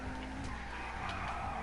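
A car in the GTA video game skids with a sustained tire squeal over a steady engine drone, loud and continuous across the short stretch, without any talking.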